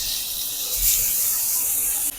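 Cooked vegetables dropped into a pan with roasted garlic give a loud steady sizzle and hiss that holds for about two seconds.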